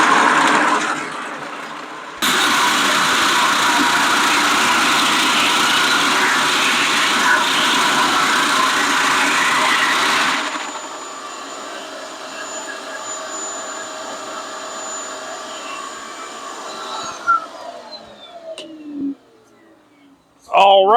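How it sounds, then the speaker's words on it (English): Ball mill grinding tantalum capacitors into powder, with the dust drawn into a cyclone separator bin. A loud, steady roaring rush cuts off, leaving a whining hum that spins down with falling tones, then ends in a few clunks. "that's all the tantalum capacitors processed through the ball mill"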